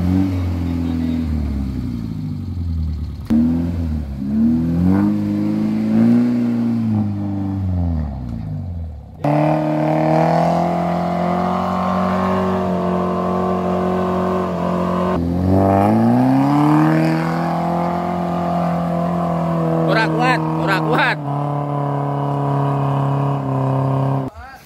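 Suzuki Vitara and Jimny off-road engines rev hard climbing a steep ravine, loud and sustained with rising and falling pitch and a brief drop near the middle, while people shout over the roar.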